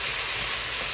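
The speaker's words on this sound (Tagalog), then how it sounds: "nagisa ako ng sibuyas, bawang, kamatis" Onion, garlic and tomato sautéing in a pan, giving a steady, even sizzle and hiss that carries on without a break, close and moderately loud with no talking.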